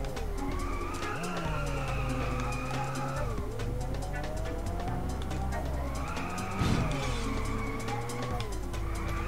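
Car engine and tire squeal in the arcade drifting game Inertial Drift, a revving engine rising and falling in pitch with skidding tires during slides, fairly quiet and steady.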